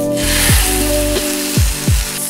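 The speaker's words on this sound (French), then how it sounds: "on va faire griller le saumon." Salmon grilling on a hot cooking plate gives a steady close sizzle throughout, with a few short scraping or hissing bursts where the fish is moved or turned.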